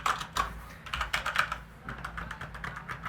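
Rapid typing on a Corsair K95 Platinum mechanical keyboard gives a close, crisp run of key clicks and clacks in an uneven, busy rhythm, steady throughout with no talking.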